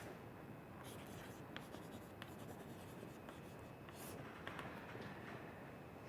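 Chalk tapping and scraping on a board during a university lecture on monotone circuit lower bounds, soft intermittent clicks and strokes over a steady low room hum, fairly faint throughout.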